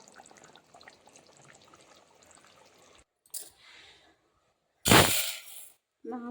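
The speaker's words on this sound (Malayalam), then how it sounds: "രാവിലത്തേക്കുള്ള അരി ദോശയ്ക്ക് വെള്ളത്തിൽ ഇടുകയാണ്" Water is poured over rice set to soak for dosa batter in a home kitchen: a faint, quiet stretch gives way to a short splash, then a louder, sustained pour lasting under a second, with a final brief trickle.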